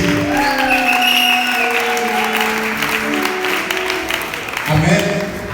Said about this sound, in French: Est-ce qu'on peut acclamer pour le Seigneur? Est-ce qu'on peut acclamer très très très fort?